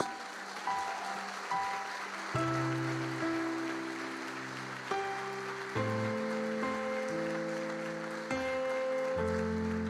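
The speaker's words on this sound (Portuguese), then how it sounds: "Você pode aplaudir a Jesus?" A church congregation claps steadily over sustained organ or keyboard chords, the applause a broad wash beneath the music throughout.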